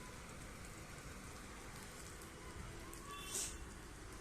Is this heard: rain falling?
yes